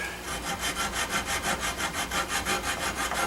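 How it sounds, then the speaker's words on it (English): A No. 49 rasp shapes a wooden gunstock in a gunsmith's shop, its rhythmic strokes rasping back and forth in an even cadence of about a dozen passes, close and clear with no talking. "I'll still need more shaping back here with the 49 rasp."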